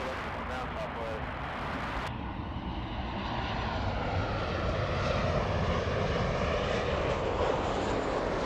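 An Alaska Airlines airliner in special livery comes in to land at LAX, its engine roar building and holding steady, heard with a voice speaking over the noise.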